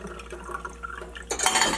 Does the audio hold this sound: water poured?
yes